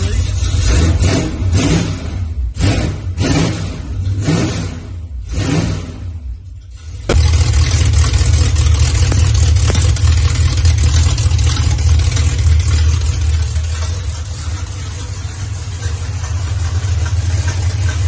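A 1973 Dodge Charger V8 with an exhaust leak runs loud and close. It comes in choppy pulses at first, then settles into a steady, harsh roar.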